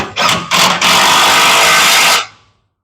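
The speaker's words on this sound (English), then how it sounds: "I like to tighten the side bolts on the brackets first while I push up on this" A power tool drives the bash plate bracket bolts on a Delica L300 in loud, close whirring bursts: two short pulses, then a longer sustained run that winds down and stops.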